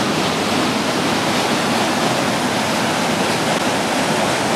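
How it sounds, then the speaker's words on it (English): A small waterfall rushing over limestone near Jasper, a loud, dense, unbroken roar of falling water heard close up and alone, with no talking. "Little rushing water, a little waterfall"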